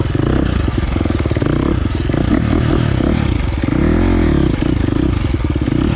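A 2023 KTM 350 XC-F four-stroke dirt bike engine runs hot and loud up close, revving and bogging in uneven surges with clattery mechanical noise throughout.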